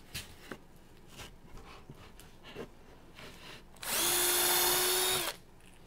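A power drill whirs steadily for about a second and a half, loud and close, drilling a pilot hole in MDF with a 2.5 mm bit, after some faint handling clicks and taps.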